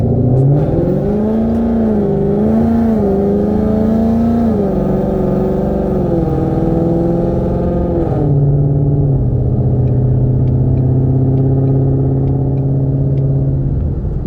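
Loud Corsa Extreme exhaust roar of a 2018 Mustang GT with a 10-speed, accelerating, the engine note climbing in pitch through several surges before settling into a steady, deep drone.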